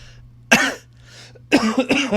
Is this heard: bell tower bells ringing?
no